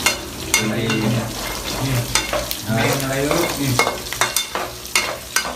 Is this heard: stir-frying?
yes